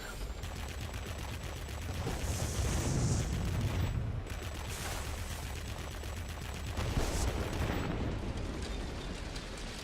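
Ilyushin IL-40P attack aircraft in World of Warplanes firing its cannons, long rattling bursts of rapid mechanical gunfire over a constant engine drone, swelling around the middle and again near the end.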